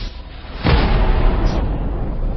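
An asteroid impact explosion as a documentary sound effect: a quiet rumble breaks into a sudden loud, deep boom that rolls on as a sustained roar to the end.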